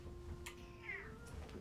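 A cat gives a single short, faint meow partway through, set against quiet background noise.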